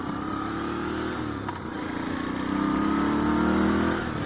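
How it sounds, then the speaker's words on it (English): A 2016 Moto Guzzi V7 Stornello V-twin motorcycle engine runs with a steady, breathy throb. It builds slightly in loudness toward the end, close and continuous, with no talking over it. "it does have that same breathy V-twin sound that is awesome"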